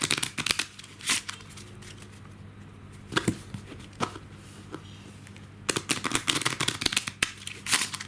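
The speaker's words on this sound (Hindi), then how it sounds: "फिर भी हम कार्ड्स को एक दो शफल और देंगे" Playing cards being shuffled during a simple magic trick: several separate bursts of riffling and snapping card noise, close and crisp, with quiet pauses between the shuffles and no voices.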